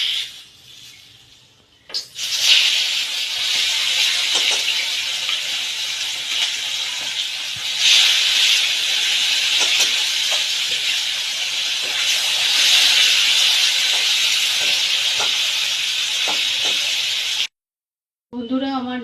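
Small puti fish frying in hot oil in a wok, a loud, steady hiss and crackle that rises sharply near the start and runs almost continuously before cutting off abruptly near the end.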